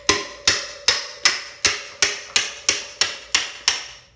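Hammer tapping a stud into place on a Yamaha YZ125 two-stroke dirt bike, a steady series of about eleven sharp metallic strikes, evenly spaced and close, each ringing briefly, with no talking.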